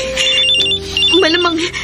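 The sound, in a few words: mobile phone ringtone ringing in radio drama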